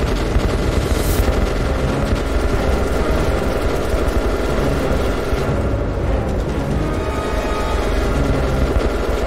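A war video game is full of dense, continuous rumbling explosions and rapid gunfire. The roar is loud and unbroken throughout, with a few sharper bursts and no voices.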